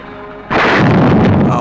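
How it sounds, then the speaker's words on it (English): A boat explodes on the water's surface with a sudden, loud blast halfway through, breaking the quiet and becoming a thick, rumbling roar that rolls on to the end. "There's a big old explosion on the surface of the water."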